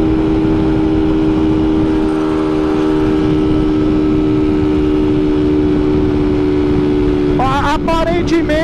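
Honda Titan KS 125 motorcycle with an iridium spark plug cruising in fifth gear, a loud steady engine hum with wind rush throughout, and a brief voice near the end.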